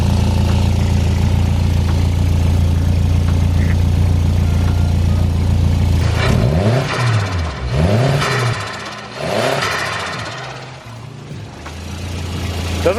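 Volvo engine idling steadily after a fuel pressure adjustment, then revved in several short, smooth blips over a constant low hum, running cleanly without misfire.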